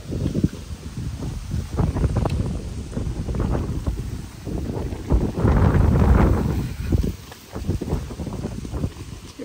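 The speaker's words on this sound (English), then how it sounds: "Very windy." Strong wind buffets the microphone in a steady, loud roar with gusts that swell and fall, heard outdoors during a trip in Cuba, with low rumbling bursts throughout and no clear speech.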